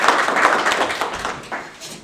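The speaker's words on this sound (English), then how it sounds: "Please give him a warm round of applause." Audience applause for an award recipient at a ceremony, a dense wash of clapping held steady for about two seconds and easing slightly toward the end.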